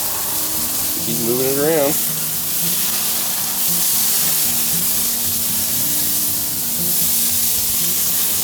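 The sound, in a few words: leg of lamb searing on a charcoal grill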